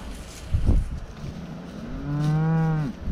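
A cow moos loudly and close by with a long, drawn-out low call, after an earlier shorter grunt and some rustling background noise, while cows and calves are moved to winter grazing.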